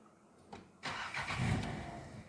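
A car engine cranks briefly and catches, settling into a steady running rumble, heard close up with no talking, during a driving lesson.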